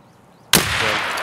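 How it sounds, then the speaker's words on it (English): A single loud, sharp gunshot in Escape from Tarkov bursts out of near silence, then rings into a sustained echoing tail. "I took a shot at this guy"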